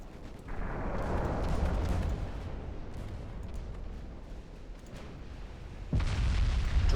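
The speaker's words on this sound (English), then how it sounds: "Torpedo hits on an enemy light cruiser" Torpedo hits explode in the naval warfare game Ultimate Admiral Dreadnoughts, striking an enemy light cruiser: a heavy, rumbling blast that swells and holds, then a second loud boom lands near the end.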